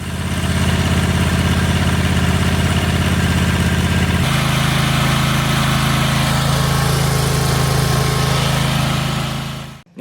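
A small Briggs V-twin engine, throttled down with the choke on, idles steadily and loudly up close at low RPM, its low chugging drone shifting pitch slightly midway before cutting off abruptly at the end.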